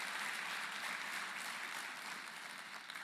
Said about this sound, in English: So, great applause to our educators.